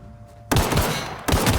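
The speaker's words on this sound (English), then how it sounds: "Who the fuck is shooting" Gunfire bursts in The Outer Worlds: two sharp onsets of dense, loud shooting, the first starting about half a second in after a quiet lead, the second following roughly 0.8 seconds later.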